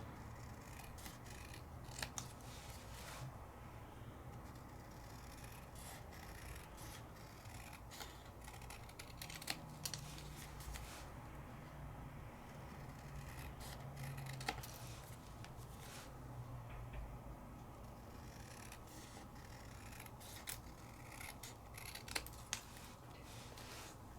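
Scissors snip intermittently while trimming down a Creative Expressions die-cut piece, sharp close clicks scattered over a quiet background with soft paper rustle, no talking.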